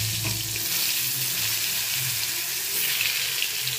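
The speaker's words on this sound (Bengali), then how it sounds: "আমি যতক্ষণ পটল ভাজছি" Pointed gourd (potol) pieces frying in hot oil, a steady, close sizzle with a broad hiss running without pause through the whole stretch; no one speaks.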